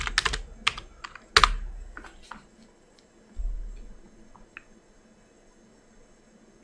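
Password typed on a computer keyboard while setting up Windows Server, quick irregular key clicks close up, a cluster of presses followed by a dull thump and a few scattered taps, with no talk.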